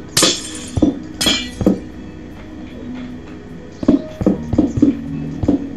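Repeated glass breaking sounds in Minecraft, several sharp crashing clinks in quick bursts, loud and close, with no talk.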